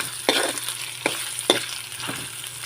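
Pork browning and sizzling in a hot pan with salt, a steady close frying hiss broken by several sharp stirring scrapes at irregular intervals.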